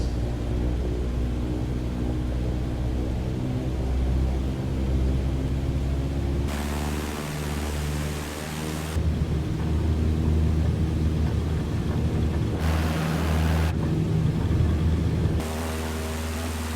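Steady engine drone from a Cessna 152 in Flight Simulator 2020 during the takeoff roll near Angers, a continuous loud hum with a shifting noisy layer, no talk.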